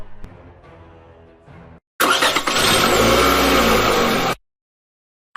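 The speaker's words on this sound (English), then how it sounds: "I heard the sound of cars." A car engine roars loudly for about two and a half seconds as the vehicle revs and drives past, then cuts off abruptly, following a quieter stretch of softer background sound.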